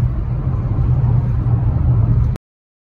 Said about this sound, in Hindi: अपने गाड़ी बड़ी खींच के चल रहे हैं।